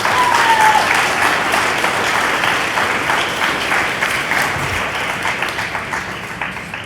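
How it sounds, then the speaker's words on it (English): Sustained, dense applause from an audience at an eighth grade promotion ceremony, loud and steady across the whole stretch with no voices on top. "Let's give them one big round of applause."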